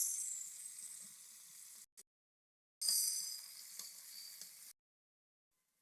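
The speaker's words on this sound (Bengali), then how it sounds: "এখন আমরা মাছ রান্নার জন্য তেলে সামান্য পেঁয়াজ দিয়ে নেব।" Onion frying in oil as the base for a fish curry, a steady bright sizzle in two long bursts separated by short silences, close and alone with no talk.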